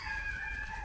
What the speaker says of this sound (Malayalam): എന്നിട്ട് കോഴി ഓടിക്കുന്നു.